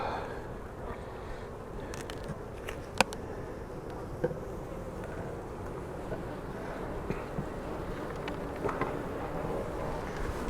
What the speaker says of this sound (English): Lots of bees up here because there was kind of a void right there.